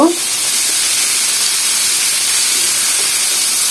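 Pointed gourd and potato pieces frying in hilsa fish oil give off a loud, steady hiss close up, with a brief clatter at the start and no talking over it.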